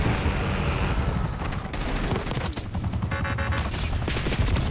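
Dense, continuous gunfire fills a Black Ops 6 match with rapid bursts and heavy reports layered together, loud and unbroken throughout with no voices heard.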